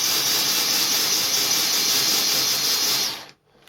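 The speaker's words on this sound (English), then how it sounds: "So what you can hear is a kind of sputtering sound" A Dyson DC44 Digital Slim Mk2 cordless stick vacuum with a blockage runs its motor as a loud, steady, hissing whine, then cuts off abruptly near the end.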